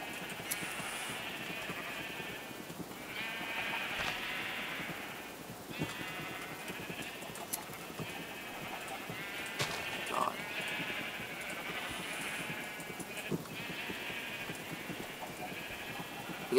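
Sheep in the video game Minecraft bleat repeatedly in short nasal calls, several overlapping at close range over a low background murmur.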